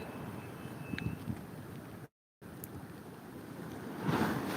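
Faint, continuous sea surf washes steadily with wind buffeting the microphone, briefly cut by a moment of silence before the rushing water resumes and swells louder at the end.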